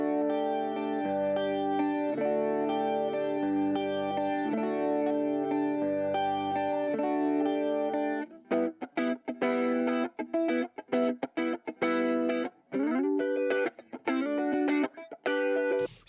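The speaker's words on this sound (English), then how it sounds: "I have slammed the dynamics of the electric guitar track using this 1176 variant" Heavily compressed electric guitar run through a UAD Spark 1176-style compressor: a sustained picked section with chorus-like shimmer gives way to tight, choppy staccato chords with abrupt gaps, loud and squashed throughout.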